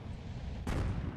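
A Hummel self-propelled artillery gun fires a single shot in World of Tanks: one abrupt, broad blast that rings out over a low rumbling background and fades over a fraction of a second.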